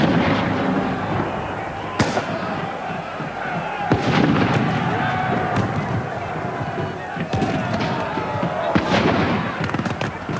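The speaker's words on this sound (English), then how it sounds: "The musketeers fired volley after volley" Musket volleys in an English Civil War battle: sharp, loud cracks at regular intervals over a dense, continuous roar of crowd and battle noise, with a voice talking underneath.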